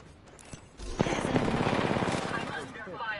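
Gunfire in the video game Apex Legends while playing Rampart, a sustained rapid burst of automatic fire starting abruptly and rattling on near and loud, with a few faint sounds before it.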